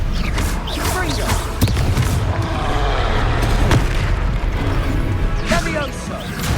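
Fiery Confringo spell blasts from a Hogwarts Legacy battle, a string of loud booming crashes amid constant combat noise, with a voice calling out over the din.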